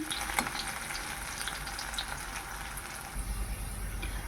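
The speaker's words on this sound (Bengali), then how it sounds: "তেজপাতা এবার ভেজে নিচ্ছে একদম হালকা করে ভাজবো" Bay leaves fry in oil, sizzling and crackling steadily in a pan, with a faint stir or scrape early on; close and continuous, no voices.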